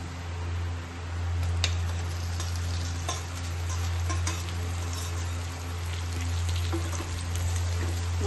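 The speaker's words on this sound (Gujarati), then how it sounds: "મિક્સ કરી નાખવાના બટેટાની અંદર।" A spatula stirs potato poha in a frying pan over steady sizzling, with occasional scraping clicks against the metal throughout, close and continuous without speech.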